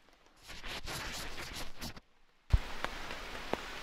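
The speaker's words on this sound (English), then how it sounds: "I'm currently under my makeshift tarp that has a few drips, but it's keeping most of the rain off" Rain in a rainforest dripping onto leaves and a makeshift tarp, a soft patter that stops briefly and then resumes, with a few distinct heavier drips landing nearby.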